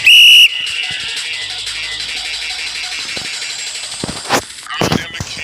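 A referee's whistle in the football video game FIFA Mobile gives one short, shrill, loud blast for a foul, followed by steady crowd noise and the commentator talking.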